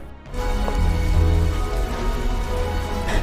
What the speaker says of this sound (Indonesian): malam itu hujan telah turun